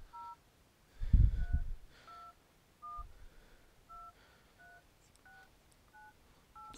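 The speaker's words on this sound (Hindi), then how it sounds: "इसी से आप यहाँ पे फ़ोन पे जाके अपने नंबर भी डायल कर सकते हैं।" A phone number is dialed through Apple CarPlay on a car's screen, giving a series of short, evenly spaced touch-tone beeps, one thump and a quick knock between them, heard alone inside a quiet cabin.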